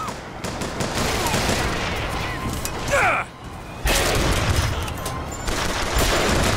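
Dense, continuous gunfire from the video game Bioshock Infinite, loud and sustained with a brief lull around the middle before the barrage resumes at full intensity.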